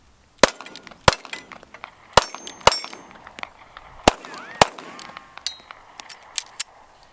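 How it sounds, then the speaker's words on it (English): Original Ruger LCP pocket pistol fired at a range: sharp, loud single shots at irregular spacing, about a dozen in total, with lighter clinks and ringing between them. "we're going to shoot the original LCP first"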